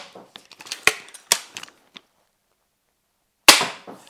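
Two sharp, loud gunshots, each with a quick decaying tail, separated by a long silence; faint handling clicks come before them.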